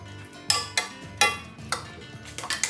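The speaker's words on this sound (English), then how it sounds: "Stir it up." Olive tapenade being stirred into olive oil in a metal bowl or pan, heard as a few sharp clinks and scrapes of a utensil against the container, spaced irregularly and fairly close.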